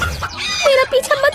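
A cartoon chicken clucks in quick, agitated bursts as it runs for its life, several short loud squawks crowding close together.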